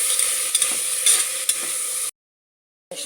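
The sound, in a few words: stirring and frying onion and tomato in a pan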